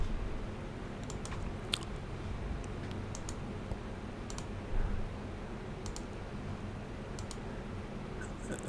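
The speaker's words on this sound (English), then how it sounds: "Sorry for the clicking noise." Sporadic sharp clicks sound during a spoken recording, scattered irregularly over a steady background hiss with no talking.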